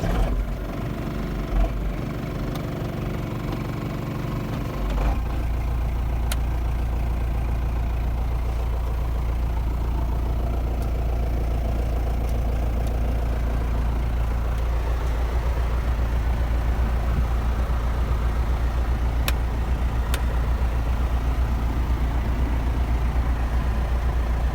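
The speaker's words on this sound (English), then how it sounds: "now we are going to start the tractor up" A John Deere 6410 tractor's diesel engine starts and then settles into a steady, loud, low rumbling idle that runs unbroken for the rest of the stretch.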